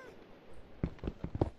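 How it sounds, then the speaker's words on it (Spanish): A cat meows a few times in Minecraft Bedrock Edition, short close calls clustered near the end after a quiet start. "Estoy siguiendo un gato misterioso."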